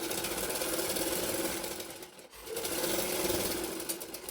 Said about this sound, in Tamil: அந்த மாதிரி மடிச்சுட்டு தையல் போட்டு எடுத்துக்கோங்க